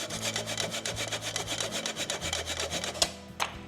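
Frozen ginger is grated over a grater in steady, rapid rasping strokes, close and rhythmic, ending with a couple of sharp taps.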